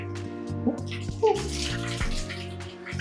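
Clear cold water running from a tap in a bathroom of a two-storey house in West Bandung, a steady close splashing hiss that continues throughout while a voice speaks over it.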